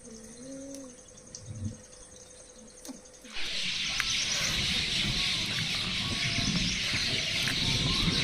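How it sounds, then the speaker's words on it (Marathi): Birds calling and cooing at dusk on the Konkan coast, at first sparse chirps over a quiet background, then a dense, steady chorus of birdsong filling the evening air from about a third of the way in. "पक्ष्यांचा आवाज बघा किती गोड येतोय"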